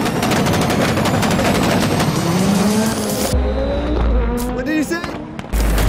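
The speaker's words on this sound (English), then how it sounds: "No, these cars are so loud." Loud rallycross cars roar past at an FIA World Rallycross round in Montalegre, Portugal, with revving engines, pitch sweeps and sharp pops, an intense, close, continuous racket that cuts off abruptly near the end.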